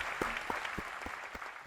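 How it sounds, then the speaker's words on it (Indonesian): An audience claps for a short stretch, a thin scattering of separate hand claps at a moderate distance at a student talk, with no one talking over it. "Tepuk tangan dulu dong buat."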